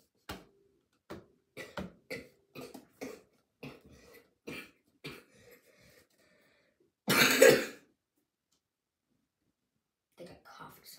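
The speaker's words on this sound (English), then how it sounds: "I think I coughed something up" A run of short, sharp coughs and throat clears repeats in quick succession, then a longer harsh burst, followed by quiet and a few faint sounds.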